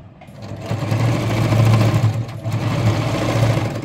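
Electric sewing machine back-stitching a chudidhar top, a close, fast steady whirring hum with a rhythmic mechanical rattle that runs without pause.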